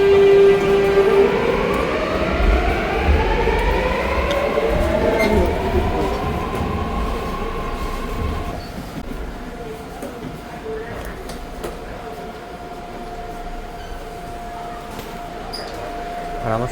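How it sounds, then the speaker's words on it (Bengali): A train pulls into a busy station platform with a rising hum and long tonal squeals that fade, then a steady rumble and drone, with faint voices mixed in. "সেই ট্রেন চলে আসছে"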